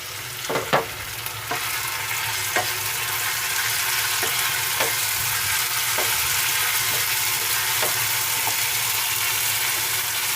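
Ginger garlic paste fries with onions in a pan, a steady sizzle broken by the regular tap and scrape of a stirring spoon, close by and with no talking.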